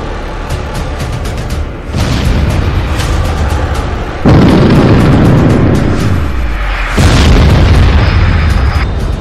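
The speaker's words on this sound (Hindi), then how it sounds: "पुतिन की तरफ से ट्रिपल अटैक में स्टॉर्म शैडो मिसाइल के गोदाम उड़ा दिए गए हैं।" A series of heavy booming blasts from a struck Storm Shadow missile depot, several loud rumbling bursts in succession, each starting abruptly and lingering as a dense roar.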